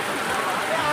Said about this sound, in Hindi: बहुत ही तेज़ बारिश हो रही है।